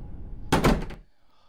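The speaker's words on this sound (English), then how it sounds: "Can this door open?" A door opens with a loud, heavy thunk in a horror video game, one burst lasting about half a second, then quiet.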